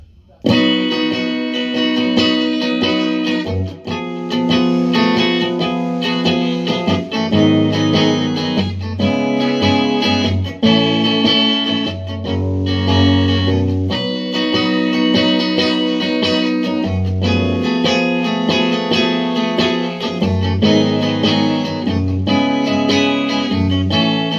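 Distorted electric guitar chords strummed in a steady, driving rhythm for a chorus, loud and continuous, with no talking.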